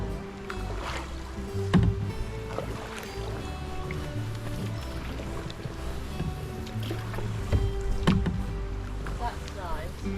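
A canoe is paddled along a canal, with rhythmic splashes and drips of the paddle over a low hum, while people chat in the boat.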